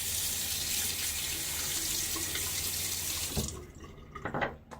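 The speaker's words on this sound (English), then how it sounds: "And I'm going to rinse." Water runs steadily from a tap for rinsing a razor during a shave, a close, full gush that stops abruptly near the end, followed by a few faint drips and clatters.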